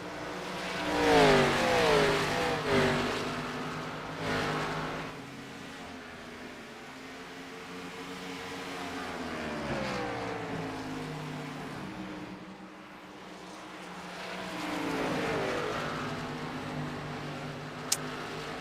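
Several Chevrolet stock cars in a Cup Series racing video game roar past one after another, their engine notes rising and falling as they go by, with a steady engine drone between passes and no voices.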